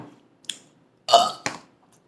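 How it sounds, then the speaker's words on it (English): One loud, short burp sounds close by, surrounded by a couple of faint mouth clicks and quiet pauses. "burp was loud."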